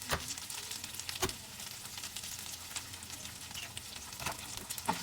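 Longganisa sisig sizzling in a pan, a steady close frying crackle with occasional louder scrapes and taps as it is stirred. Nobody speaks.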